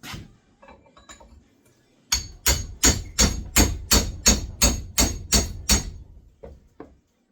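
A wedge being driven in with a hammer, a short run of about ten crisp, evenly spaced blows ringing close by, followed by a couple of lighter taps.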